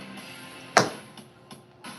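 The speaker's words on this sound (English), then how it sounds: "you're going to hear Mercury hit the gavel on the table" A gavel strikes a table once, a single sharp knock that rings briefly in a quiet room before small faint taps follow.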